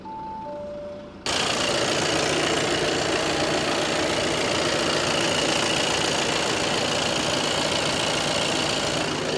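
A 2017 Audi A4 Avant S-Line Plus with an inline-four engine starts and settles into a steady, close idle with an even mechanical hum and no talk.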